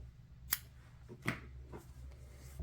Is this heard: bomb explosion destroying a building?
no